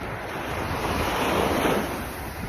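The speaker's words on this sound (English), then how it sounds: "The tide continues to come in and go out." Ocean surf washes in at the water's edge as the tide comes and goes, a broad, continuous roar that swells slightly midway, mixed with wind buffeting the microphone and no talking.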